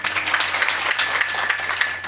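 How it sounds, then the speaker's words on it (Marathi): A devotional kirtan gathering at a temple breaks into steady applause for the singers and musicians, a dense, even patter of many hands clapping together throughout. "एकदा गाणारासाठी आणि वाजवण्यासाठी प्रेमाने टाळ्या वाजवा"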